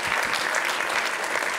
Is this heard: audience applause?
yes